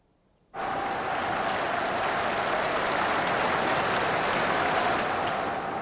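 A large crowd bursts into sudden, loud, dense applause that holds steady for several seconds after a quiet start, with no voices over it.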